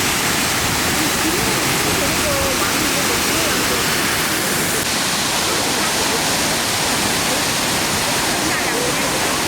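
A waterfall in Doi Inthanon National Park, Thailand, roaring as a dense, unbroken wash of rushing water that stays loud and constant throughout.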